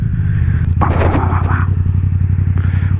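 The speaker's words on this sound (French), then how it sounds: "On veut une moto qui fasse du bruit." Motorcycle fitted with an Akrapovic titanium exhaust, a loud deep idle burbling steadily throughout, briefly punctuated by sharp clattering bursts and a quick rev, recorded close with no speech.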